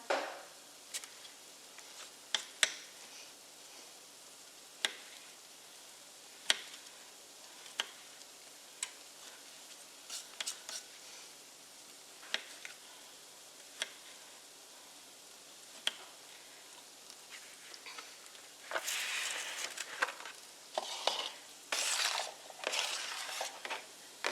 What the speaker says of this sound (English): This is just putting a little toast on the corn